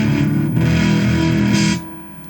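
An electric guitar plays through a Ge-32 germanium fuzz pedal with its bias knob turned fully left, giving a loud, thick, distorted sustained chord that rings out and then cuts off near the end.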